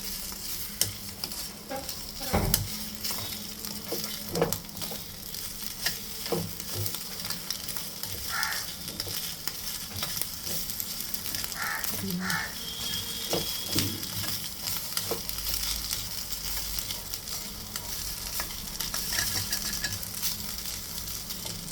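An egg fries in a pan, a steady sizzle with intermittent scraping and clinking as it is stirred, close and alone without talk.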